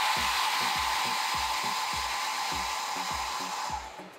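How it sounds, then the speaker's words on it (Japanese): A hair dryer blows steadily on hair, a loud constant whoosh with a rapid rhythmic low ticking underneath, fading slightly at the end. "ドライヤーをやると思います。"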